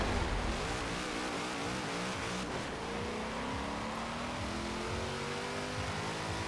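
A van's engine in Forza Horizon 4 revs and climbs steadily in pitch as it accelerates, one long, rising drone that stays loud and close with no talking.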